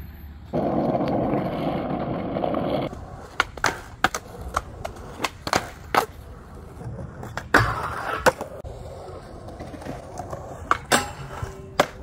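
A skateboard rolls along with a steady wheel roar at first, then a series of sharp clacks, knocks and thwacks from the board hitting the ground, some close and loud.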